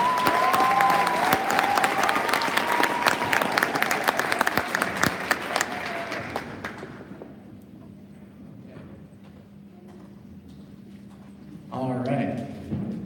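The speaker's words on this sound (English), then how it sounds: "Let's give her a round of applause." Audience applause at a spring school band concert, loud and dense for about six seconds, then fading to scattered claps and room noise, with a brief renewed burst near the end.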